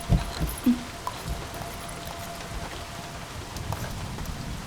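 Heavy rain falls in a steady, faint, even hiss, with a few soft knocks near the start. No voices are heard.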